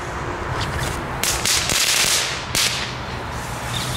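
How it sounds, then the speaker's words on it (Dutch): Consumer fireworks from a toy shop launch and fizz outdoors, a steady crackling hiss broken by a few sharp bright bursts near the middle, fairly close and moderately loud. "Kijk, dit is nou nog eens leuk vuurwerk."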